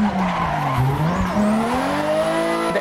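Drifting car in a VR sim racing game, its engine note sweeping and rising while tires skid and squeal continuously, loud and close, with no talk over it.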